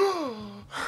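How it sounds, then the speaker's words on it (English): Gasp sound effect: a single short, breathy vocal gasp with a falling pitch, close and fairly quiet, followed by a brief breathy tail. "I should get a gasping one."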